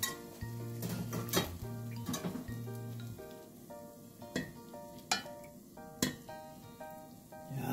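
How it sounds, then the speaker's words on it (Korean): Dried chili pepper leaves go into a pot of boiling water for a quick blanch, with clinks and knocks of a utensil against the metal pot ringing out at intervals over a soft bubbling kitchen background. "건고추잎을 끓는 물에 넣고"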